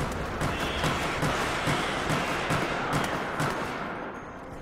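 Rapid gunfire rattles almost continuously in Resident Evil: Operation Raccoon City as shots hit zombies, dense and loud bursts layered over each other before easing off toward the end, with no voices.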